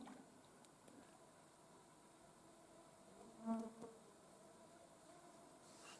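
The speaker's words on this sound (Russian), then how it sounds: "Вышла мошкара, очень много мошкары." A swarm of midges at an evening fishing spot in July gives a faint, steady high buzz, with one insect passing close and briefly louder midway through, in an otherwise quiet outdoor setting.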